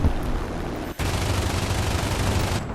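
Turret machine guns on a He 111 H-16 bomber in War Thunder fire in a loud, dense, continuous burst with one split-second break near the start.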